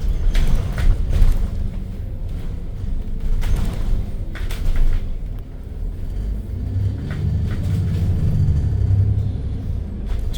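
Engine of an ADL Enviro 400 MMC double-decker bus on a rail replacement run, heard from on board as a continuous low rumble with occasional creaks and rattles from the body.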